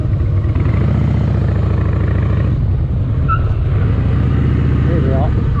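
A Harley-Davidson Fat Boy motorcycle engine rumbles loud and close with a steady low throb as it slows to pull into a lay-by, a brief tonal sound surfacing near the end.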